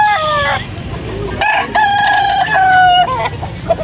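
A Pumpkin Hatch gamefowl rooster crows loudly and close, several drawn-out cock-a-doodle-doo calls in a row with other fowl clucking in the background.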